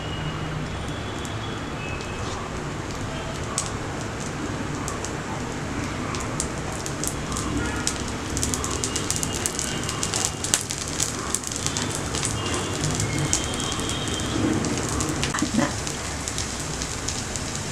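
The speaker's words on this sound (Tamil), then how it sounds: "இதுக்கு மேலே வந்து நம்ம கொஞ்சம் நெய் விட்டுக்கலாம்." Sweet appam batter sizzles in ghee on a low flame, a steady dense crackle and hiss that stays even and close throughout with no talking.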